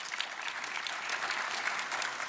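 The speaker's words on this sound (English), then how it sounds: "that's right, big round of applause for Deb." Applause from a crowd at a political gathering, steady clapping heard somewhat distant and moderately quiet, continuing for the whole short stretch with no speech over it.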